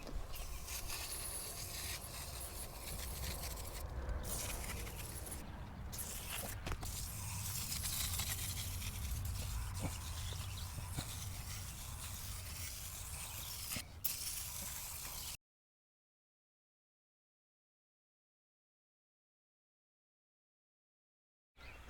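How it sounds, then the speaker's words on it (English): AC coil cleaner sprayed steadily from an aerosol can onto outdoor air conditioner coils, a continuous close hissing spray with brief pauses, running for about fifteen seconds before the sound cuts off. "I'm gonna keep spraying."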